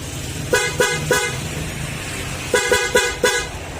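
Two bursts of loud, close horn honks from a newly installed PIAA horn on a Honda Click125 v3 scooter, three quick blasts then four more after a pause, over a running engine.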